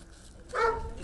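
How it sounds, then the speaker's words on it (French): A security team's tracking dog, trained to trail offenders, gives a single loud bark nearby after a short quiet moment. "un chien fait pour pister les malfaiteurs."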